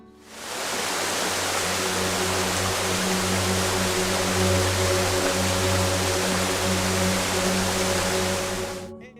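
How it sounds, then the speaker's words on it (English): Waterfalls rushing in a nature reserve produce a steady, loud, broadband roar of falling water that holds constant and close throughout, with no voices. "with the noise of the waters, of the waterfalls"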